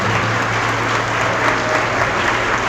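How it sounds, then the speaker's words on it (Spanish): Steady audience applause fills a church debate between a Catholic priest and an evangelical pastor, dense and continuous clapping throughout with no pause. "Me honran sus aplausos"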